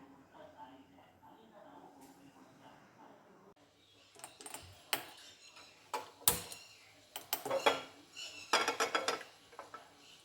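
Peanuts are dry roasted in a pan over low heat, giving scattered rattling and clinking taps that grow busier in the second half while someone talks over them.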